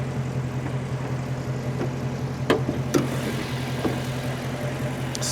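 A Dodge Challenger Scat Pack's 6.4-liter V8 idles steadily and close by, a deep continuous rumble with a couple of brief sharper clicks or blips partway through, no one speaking.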